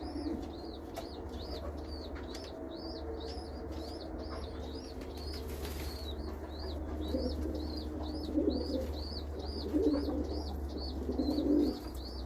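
A pigeon chick begs for food with a fast, repeated high-pitched wheezing call, joined by soft cooing and brief wing flapping from nearby adult pigeons.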